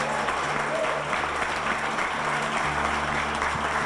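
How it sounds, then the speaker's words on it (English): Steady, full applause from the audience at a government entrepreneurial leadership accelerator pitch night, warmly rewarding the pitch teams of city employees and law students, with a low hum running beneath. "Will you give our teams a round of applause one more time?"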